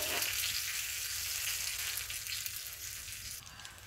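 Chopped green chillies and curry leaves fry in a mustard seed tempering for a salted mango dish, producing a loud, continuous close sizzle that eases off slightly near the end, with no talking.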